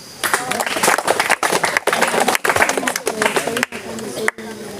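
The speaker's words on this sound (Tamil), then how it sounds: "நல்ல ஒரு கைத்தட்டுங்க அவனுக்கு." A burst of group clapping mixed with voices, uneven and lively, cutting off in short pauses as the room chatters over it.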